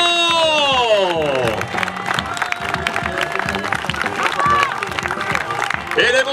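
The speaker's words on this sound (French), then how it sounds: "Et Arnaud Pérignon va prendre maintenant la deuxième place avec vos applaudissements." A large crowd claps and cheers steadily and loudly for a runner at the finish of the Transju'Trail race, with excited voices and whoops mixed into the applause throughout.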